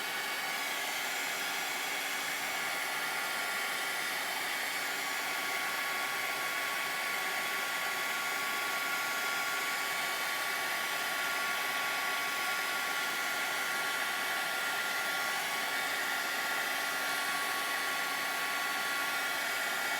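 A heat tool blows steadily while melting embossing powder, a close, continuous airy roar like a hair dryer that holds at an even level throughout with no breaks.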